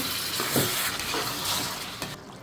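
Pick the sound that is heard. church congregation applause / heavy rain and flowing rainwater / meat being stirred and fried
meat being stirred and fried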